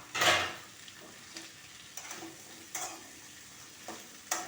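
Thin bitter gourd slices fry with onions, a soft sizzle broken by several sharp scraping stirs and light pan knocks, heard fairly quietly with no speech.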